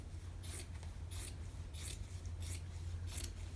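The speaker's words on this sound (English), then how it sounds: "you're going to cut so it's just an inch past the other inseam and cut right up" Scissors cut up the inseam of old denim jeans in five or six even, rhythmic snips, each a crisp crunch of blades through the thick fabric, close and clear over a faint low hum.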